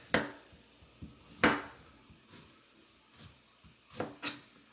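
A knife chops through skinny Chinese eggplant on a board, giving four or five sharp, separate cuts that are loud and close, with quiet pauses between them and no talking.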